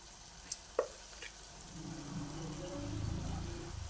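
Tomato and capsicum curry sizzles quietly in the pan as chili powder goes in, with a couple of sharp utensil clicks first, then a soft, steady frying hiss building underneath.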